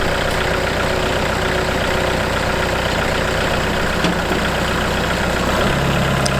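Tractor engine running steadily at raised RPM to drive the blades of a bush hog mower, a loud continuous low rumble with no breaks or voices.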